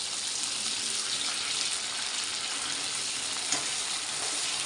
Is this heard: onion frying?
yes